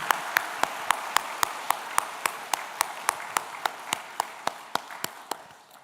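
A church congregation at a special dawn prayer service claps in tight unison, about two dozen sharp, evenly spaced claps in a steady beat that eases slightly softer toward the end.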